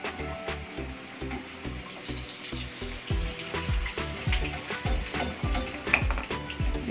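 Puris frying in hot oil for an aloo puri breakfast, a continuous bubbling sizzle that grows busier partway through, with occasional utensil knocks, close and moderately loud, no speech.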